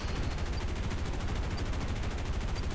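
The 8.8cm Flak 37 Sfl cannon fires in War Thunder, part of a busy game soundscape. Dense, rumbling low-end booms and crackling bursts stay steady at a moderate distance throughout.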